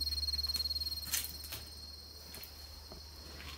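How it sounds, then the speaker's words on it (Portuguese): Crickets chirp outdoors in an overgrown, weedy spot, a faint steady high trill running throughout with a few soft rustles and clicks, no voices. "Até os grilos tá cantando uma hora dessa"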